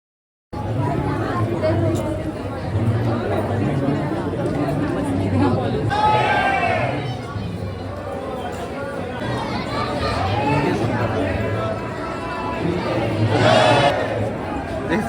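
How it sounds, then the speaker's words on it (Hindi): A busy moving crowd chatters near the Kaal Bhairav temple in Ujjain, a dense steady babble of many voices with occasional louder calls standing out, close and continuous. "बहुत चलती भीड़ है ना"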